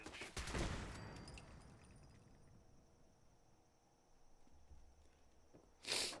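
Gunfire in the Fallout 4 Far Harbor video game, a loud burst of shots at the start aimed at the companion Longfellow, fading to quiet ambience before a second sharp blast near the end.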